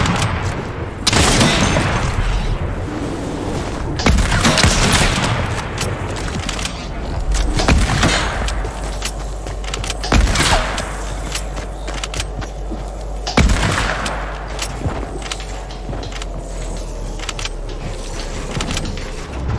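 Sniper rifle shots ring out in the video game Fortnite, several loud sharp cracks spaced a few seconds apart over a busy background of game sounds.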